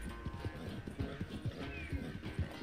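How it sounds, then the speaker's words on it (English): A horse in Red Dead Redemption 2 clip-clops along with steady rhythmic hoofbeats, up close, while a brief neigh rises over the low game ambience. "Get up, horse."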